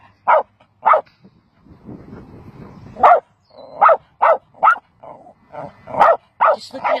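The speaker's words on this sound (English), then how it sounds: "Apart from Milo barking." A dog barks outdoors in a series of sharp, close barks, loud and irregularly spaced, with brief whimpering sounds in between and no talking.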